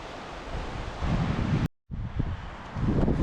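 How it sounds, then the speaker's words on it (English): Strong, gusting wind roars across a wild Scottish glen near the River Isla, a broad steady rush with a brief dropout midway before the buffeting resumes, loud and close with no talking. "It's so extremely windy here right now folks."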